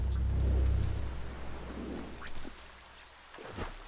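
Rain and thunder in the video game Biomutant: a steady wash of rainfall with deep, low rumbling thunder swelling early and again near the end, heard alone without talk.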